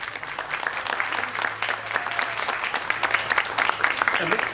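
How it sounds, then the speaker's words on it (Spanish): An audience at a book fair novel presentation claps to welcome a guest, a moderate, continuous patter of hands with faint voices and murmurs mixed in beneath. "Así que le damos un fuerte aplauso para recibirlo."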